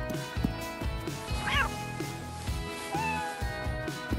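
A small kitten meows several times in a home setting, short high cries rising and falling over a steady bed of background music.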